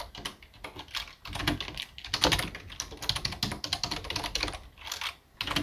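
Fingers type HTML meta tags on a computer keyboard in a quick, busy stream of close key clicks with short pauses between bursts.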